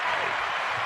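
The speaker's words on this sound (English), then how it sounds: "Hey, I got an applause." A brief burst of applause, a dense wash of clapping that stays steady and fairly loud for under a second before cutting off.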